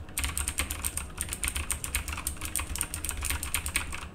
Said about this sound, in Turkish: Şimdi yukarıdaki mavi switchli modele geçelim.